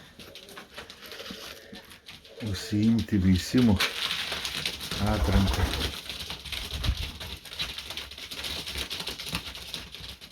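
Male pigeons, including red birds, coo in a loft in a few short, throaty bursts close by, while someone talks over and between them.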